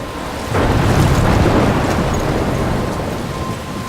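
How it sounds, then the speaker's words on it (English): Thunder rolls over heavy rain in the video game Life Is Strange, a sudden deep rumble that swells and lingers above a constant downpour, loud and close. "I'm trapped in a storm?"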